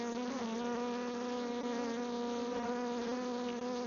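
Honey bees drone steadily around an opened hive, a continuous close, moderately loud buzz with many overlapping wingbeats and no speech.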